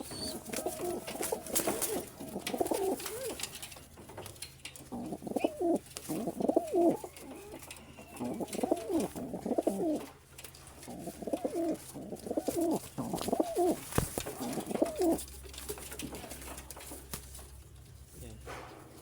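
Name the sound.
pigeons cooing while being fed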